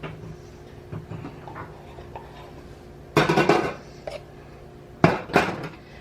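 A turmeric spice container is opened with two sharp, clattering bursts of handling noise a couple of seconds apart, close by against a quiet room with faint background clicks.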